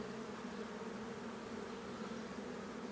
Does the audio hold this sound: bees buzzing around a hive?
yes